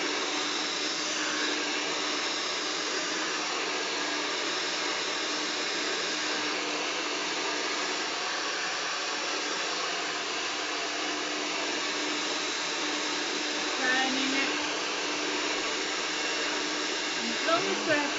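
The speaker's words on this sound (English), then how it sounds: "long as the hair dryer is facing down the length of the hair" A steady, loud whirring hair dryer blows continuously for the whole stretch, with faint shifts as it moves; no talking.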